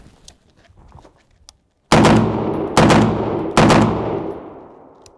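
An FN SCAR rifle fitted with a KNS gas regulator set to position 7 fires three loud, separate shots, spaced about a second apart at a slow rate, each followed by a ringing echo tail.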